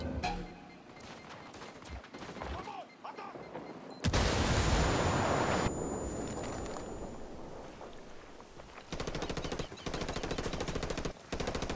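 Rapid automatic gunfire from Ghost Recon Wildlands, loud bursts of machine-gun fire in the first seconds, then a sustained dense fusillade, then another run of rapid shots near the end.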